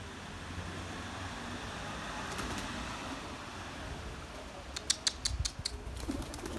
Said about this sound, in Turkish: Kuşları kaldırdım.